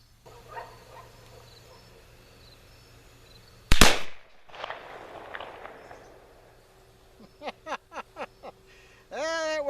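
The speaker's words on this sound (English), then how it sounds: "That worked pretty good. A little bit of a pop bang there." One loud, sharp shot from a .50 caliber Lyman Plains black powder pistol, fired outdoors at a hedge apple, with a short ringing tail; a series of brief, quieter yelps or barks follows later.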